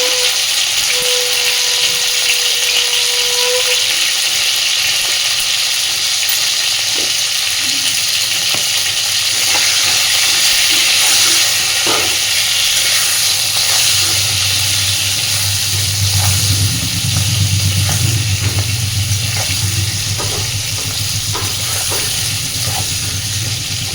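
Pointed gourd (potol) frying in a pan with salt and turmeric, a steady close sizzle and hiss with occasional stirring clicks and a deeper bubbling rise in the second half, no talking.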